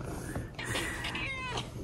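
A house cat gives a couple of short, close meows, fairly quiet against a soft indoor background.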